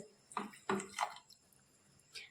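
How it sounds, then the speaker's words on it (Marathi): Water poured into a pan holding jaggery, heard as three quick splashy bursts close by, then a last short splash after a quiet pause. "त्यासाठी आपण एक वाटी किंवा थोडस त्यापेक्षा कमी इतकं पाणी घालायचंय"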